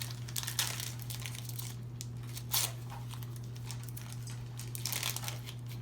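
A foil Magic trading card booster pack is torn open slowly, with crisp crinkling and crackling of the wrapper in short bursts over a steady low electrical hum.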